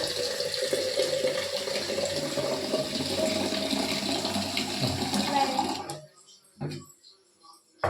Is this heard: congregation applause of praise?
no